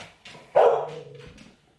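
Dogs bark nearby in a quick burst, with a few sharp yips followed by one loud bark that trails into a whining tail.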